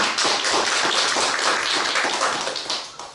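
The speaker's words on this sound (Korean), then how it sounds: "영광의 박수 드리겠습니다." A church congregation claps continuously at a Wednesday service, dense and even, filling the room with applause from start to finish before it begins to taper.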